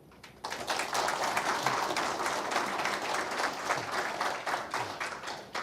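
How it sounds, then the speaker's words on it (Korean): An audience at a televised presidential debate bursts into dense, steady clapping to welcome candidate Sim Sang-jung, sustained and evenly loud for several seconds with no talking over it. "그럼 심상정 후보 박수로 맞아 주십시오."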